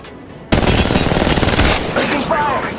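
Sudden heavy burst of sustained automatic gunfire in Apex Legends, loud and close, rattling continuously for over two seconds.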